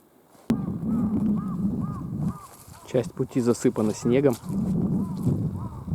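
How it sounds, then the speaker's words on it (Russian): Birds call in open fields near Boshnyakovo on Sakhalin in early May, with a few short, faint cries at moderate distance, followed by someone talking over the outdoor background. "Орут сахалинские птицы."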